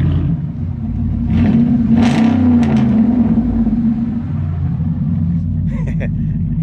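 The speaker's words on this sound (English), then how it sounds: "why are you revving my truck up for?" A Cummins 6.7 ISB diesel engine in a Thor Motor Coach Palazzo motorhome rumbles and revs up close, a deep steady drone with a couple of brief throttle surges, and a voice talks over it near the end.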